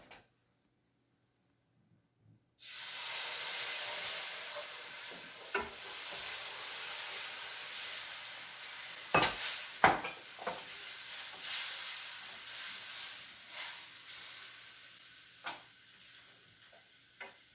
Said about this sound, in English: We're ready now to add the broth.